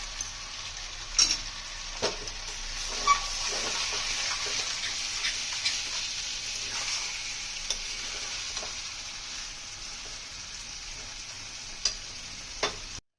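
Chicken cooking with whisked yogurt in a pan sizzles steadily and fairly close, with scattered clinks and taps from stirring breaking through the continuous frying hiss.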